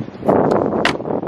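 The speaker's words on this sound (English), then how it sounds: "it's super windy now, because I live near the ocean, so the ocean breeze is having some fun" Strong ocean breeze near the coast rushes and buffets the microphone in uneven gusts, with brief rustling bursts over a steady, moderately loud noise.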